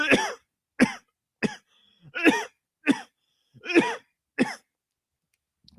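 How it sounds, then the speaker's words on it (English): A man's dry, harsh coughing comes in about eight separate bursts at an irregular rhythm, close and loud, with silence in between. "I'm going to cough for a little bit."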